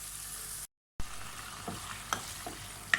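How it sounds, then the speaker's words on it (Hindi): Chicken pieces frying in a pan of tomato gravy for a karela chicken dish, a steady close sizzle broken by a brief silent gap and a few small stirring clicks, no voices. "अब ये चिकन अच्छी तरह से फ्राई हो गया है"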